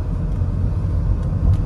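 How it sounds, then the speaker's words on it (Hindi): Petrol engine of a Maruti Suzuki Invicto hybrid running inside the cabin, a steady low rumble with no distinct start transient, continuous and fairly loud throughout. "तो अभी पेट्रोल इंजन स्टार्ट हो गया है"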